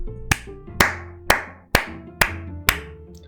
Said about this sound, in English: a little applause for myself